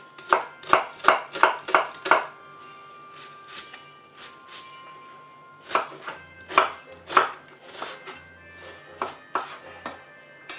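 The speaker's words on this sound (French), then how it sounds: "On va couper l'oignon." A knife chops an onion on a board in quick, crisp strokes. A fast run of cuts is followed by a pause, then another group of sharp taps, close and clear.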